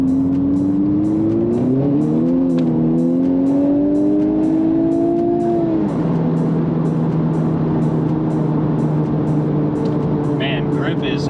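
A Honda Civic Type R accelerates hard on a road pull. The engine note climbs steadily through the revs, drops at a gear shift and then keeps droning loudly from inside the cabin.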